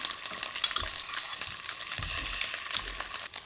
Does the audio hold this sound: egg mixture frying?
yes